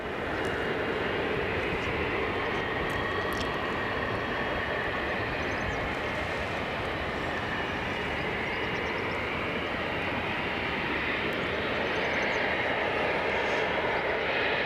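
Airliners taxi and queue for departure at Aberdeen airport, a steady broadband jet roar that holds constant throughout, heard from a distance with no pauses and no voices.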